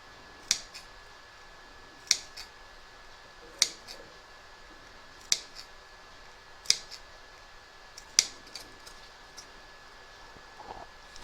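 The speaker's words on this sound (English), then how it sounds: "Then we're going to snip the corners towards the stitching" Scissors snip the fabric corners of a four-leaf-clover coaster in seven crisp, isolated cuts spaced evenly about a second and a half apart over a quiet background.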